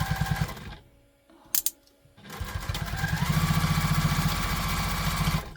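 A sewing machine stitches across a tote bag in a steady, rapid mechanical chatter. A brief run at the start is followed by a pause, then a longer, louder burst of stitching that ends abruptly.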